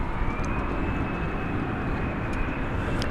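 A plane taking off at night at DFW Airport, a steady, loud broadband engine roar with a faint high whine, continuous and close throughout.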